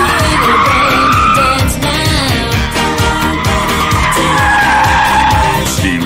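A Holden Monaro slides sideways with its tires squealing in long wavering howls over a loud revving V8, the skid steady and close for several seconds.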